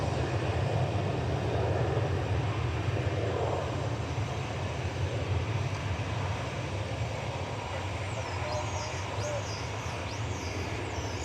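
A Boeing airliner in special 100 Years Strong livery rumbles steadily at DFW Airport, a broad continuous engine roar holding level throughout with faint chirps above and a voice talking over it.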